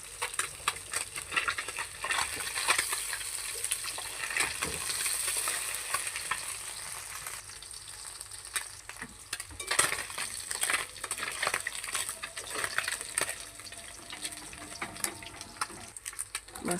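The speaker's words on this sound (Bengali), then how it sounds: "মাছটা ভাজা হয়ে গেছে" Puti fish fry in a pan, a steady crackling sizzle of hot oil with occasional spatters and clinks across the whole stretch, no talking.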